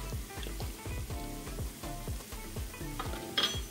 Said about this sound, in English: So we're going to add in our flour and get that stirred in and combined with that olive oil and onion mix